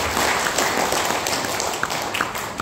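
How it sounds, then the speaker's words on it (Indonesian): An audience at a business school seminar in Palu breaks into dense, loud applause, a continuous wash of many hands clapping close by, with no voices over it. "Maka boleh tepuk tangan untuk perusahaan kita Bapak Ibu."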